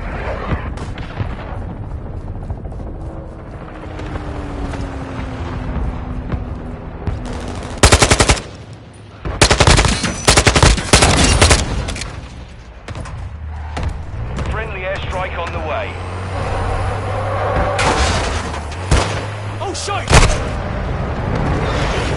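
A cruise missile strike and gunfire in a military shooter game: heavy blasts and bursts of rapid automatic fire arrive in loud clusters over a rumbling battlefield background, with voices talking in between.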